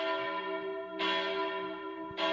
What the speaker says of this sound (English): Like a chime from church.